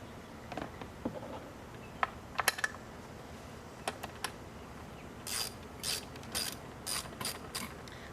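8mm screws being driven back into the top housing of a Troy-Bilt engine, quiet ratcheting clicks and short tool taps, then a burst of rapid ratchet strokes, close and isolated.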